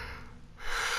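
A person yawns close by, a breathy drawn-out intake that swells louder toward the end, with no words spoken.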